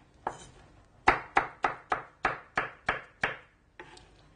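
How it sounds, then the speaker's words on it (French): Knife chopping through ripe papaya on a cutting board, about nine sharp, evenly spaced thuds in a quick steady rhythm, close and clear with no talking. "on prend un papaye bien mûr qu'on coupe"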